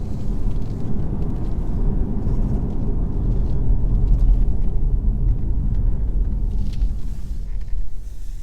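A 2021 BMW 520d Touring diesel with a ZF 8-speed gearbox is being driven hard, heard from inside the cabin as a loud, steady low rumble of engine and road noise.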